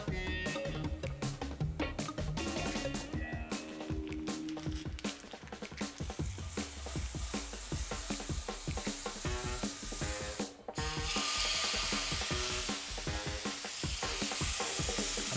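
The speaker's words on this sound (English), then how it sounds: "I'm gonna add some beer to the tomato sauce." Beer poured into tomato sauce in a hot pan sets off a steady, close sizzle with stirring scrapes and bubbling, continuing throughout with no talking.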